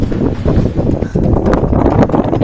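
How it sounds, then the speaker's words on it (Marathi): Strong gale blowing at the seashore of Jeevna Bandar in Shrivardhan during high tide and heavy rain, a loud continuous roar of wind buffeting close to the microphone throughout. "हा जो वारा सुटलेला आहे सोसाट्याचा वारा तो सुद्धा आपल्या कानी ऐकू येतोय"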